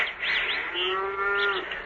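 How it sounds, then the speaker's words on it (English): A cow moos in one long, drawn-out low call with a strained, rising overtone, set in a radio drama on a windswept farm after a burial; it sounds near and loud, with wind and no talk. "the cow's due for milking"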